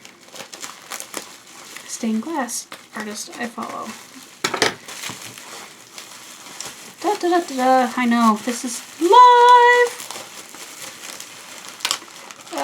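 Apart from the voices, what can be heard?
unwrapping a heavily taped package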